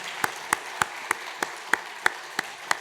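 A church congregation claps for the children during a Sunday service: about nine crisp, evenly spaced claps in a steady rhythm, moderately quiet and somewhat distant, with no voices.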